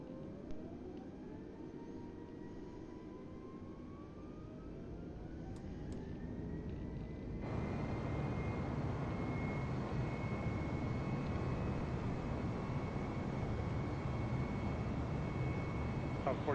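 An aircraft engine in a flight simulator game spools up for takeoff, with a steady droning roar whose pitch rises gradually and then jumps to a louder, fuller sustained rumble. A voice is faintly present beneath it.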